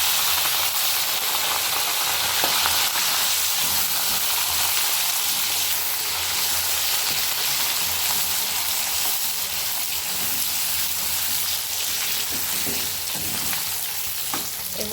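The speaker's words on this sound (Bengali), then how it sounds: "ভালো করে একটু ভেজে নেব।" Potatoes frying in oil with green chilli and ginger paste for a Bengali-style vegetarian cabbage dish: a loud, close, continuous sizzle and hiss, with occasional stirring scrapes, steady for the whole stretch.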